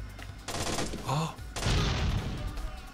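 A grenade explodes in the stealth shooter game Splinter Cell, with two heavy booming bursts trailing into crackling debris, separated by a short vocal exclamation.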